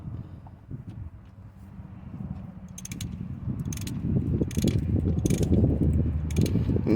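A ratchet works on an outside bolt of a power steering pump on a Freightliner with a Detroit 60 Series engine: rapid clicking pawl strokes come close and clear, growing louder and busier as the bolt loosens.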